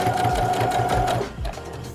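A sewing machine back stitches a fabric face mask in a rapid, steady mechanical chatter that stops briefly and then resumes, close and clear.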